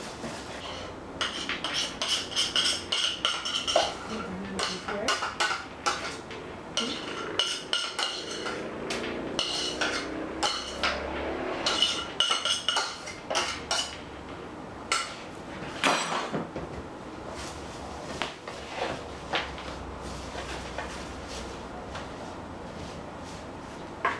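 Whole wheat dough ingredients, including wheat gluten, being stirred together in a bowl, a long stretch of steady, close scraping and clinking of a utensil against the bowl's sides, rhythmic and uneven, with no voices.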